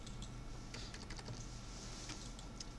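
Computer keys are pressed in a quick irregular series of light clicks and taps, faint and close, in a quiet room with a low background hum.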